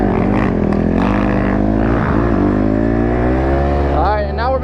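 A Yamaha YZ250 two-stroke dirt bike engine droning loud and steady, revving up and dropping back with a dip near the middle and a rising rev at the end, with a voice under it.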